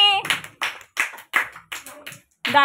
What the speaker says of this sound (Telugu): పెడితే క్లాప్స్ కొట్టండి